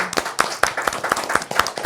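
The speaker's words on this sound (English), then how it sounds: "Like, round of applause for how they're looking, you know." A few people clap on a podcast set, the sharp hand claps coming in a loose, irregular rhythm, close and fairly loud, with a faint bit of voice mixed in.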